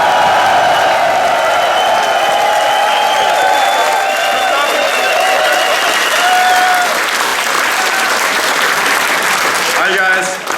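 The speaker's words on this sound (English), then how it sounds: "Round of applause for the teams in Austin and LA would be much appreciated." Sustained applause from a large crowd at a Star Citizen hangar reveal event in Cologne fills the whole stretch, steady and loud, with faint cheering mixed in and voices beneath.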